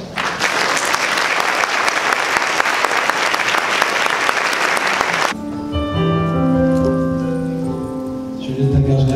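A large audience claps loudly and steadily as a performer is welcomed onstage at the Christian Product Expo, a dense wash of applause that gives way abruptly to piano and music.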